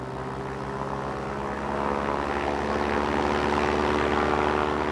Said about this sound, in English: Facing into a 25-mile-per-hour wind, the V-173 literally takes off vertically.